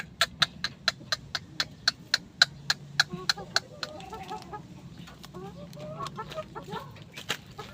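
A brooding hen clucks in a fast, even series of sharp, close calls, then shifts to softer, irregular murmuring clucks over a low background hum.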